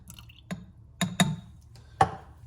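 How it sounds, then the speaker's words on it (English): Milk poured into a Nespresso Aeroccino 3 frother gives a few separate drips and splashes, loud and close, spaced apart rather than a steady stream. "So I'll just pour 100ml of milk into the Aeroccino."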